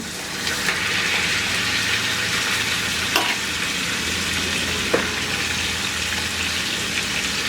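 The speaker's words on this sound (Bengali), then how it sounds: "এই রসুনটা একটু বাদামি হওয়া শুরু করলেই আমি এর মধ্যে দিয়ে দিব এই গুলা যেগুলো আমি ম্যারিনেট করে রাখলাম" Marinated chicken frying in hot oil with garlic, a steady close sizzle and crackle that holds evenly throughout, with a couple of faint clinks of a utensil and no speech.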